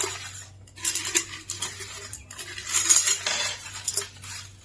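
Coins poured out of a plastic-bottle coin bank clink and jingle in uneven bursts, metallic rattles rising and falling in close clusters, with no voices.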